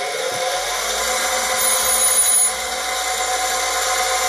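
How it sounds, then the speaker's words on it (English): Surface grinder wheel being dressed for knife blade surfacing, a steady loud abrasive hiss and whine running continuously, with a slight swell midway as the dresser bites, no talk. "First things first, we're going to dress the wheel until it's nice and clean"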